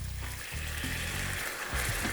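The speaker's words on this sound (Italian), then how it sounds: "aspettiamo che l'olio arrivi a temperatura e aggiungiamo un mestolo di acqua di cottura" A ladle of pasta cooking water poured into hot oil in a pan gives a brief, steady sizzle and bubbling hiss from close by, with no voices.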